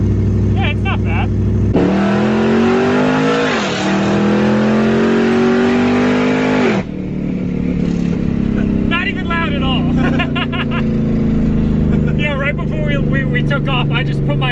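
A car at about 150 mph on a highway, heard as a loud engine roar that rises in pitch through a long hard pull, then drops back to a lower cruising drone with people talking over it.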